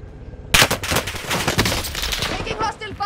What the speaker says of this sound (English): Taking hostile fire.